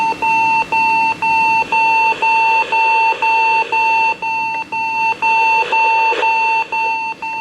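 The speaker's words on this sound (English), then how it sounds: "And try and set the alarm off." A Magnavox D-3150 clock radio alarm beeps loudly and close in quick, even pulses, about a dozen in a row, with faint radio sound mixed in underneath.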